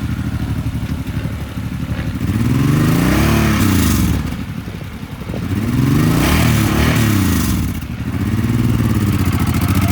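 Engine of a 2013 Suzuki Boulevard M90 V-twin cruiser with 7,000 miles, a big-bore bike: a loud, close, lumpy idle rises in two throttle blips, each a swelling rev that falls back to the rumbling idle.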